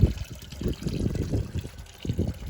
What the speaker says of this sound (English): Undo this hose right here. Let it drain out from there.